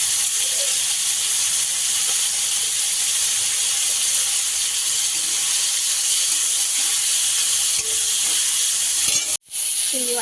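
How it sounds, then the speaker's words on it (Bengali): Spices fry in a pan while cooking jackfruit with prawns, giving a continuous loud, close hiss of sizzling oil that runs almost the whole time before a brief sharp break near the end. "মশলা ভাজা হয়ে গেছে"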